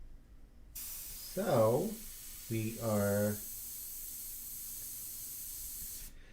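An airbrush sprays a medium mixture of India ink in a steady, close hiss that runs unbroken for several seconds, while a voice briefly talks over the start of it.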